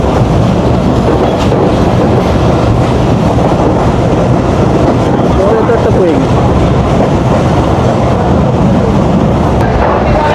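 A broad gauge passenger train, the Betna Express between Khulna and Benapole, runs loudly and steadily, carriages rattling and rumbling with rhythmic clatter from inside, with some voices faintly beneath the noise.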